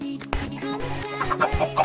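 Chickens in the Minecraft video game cluck in several short, clipped bursts close by, with a few thumps from the game mixed in and no talk over them.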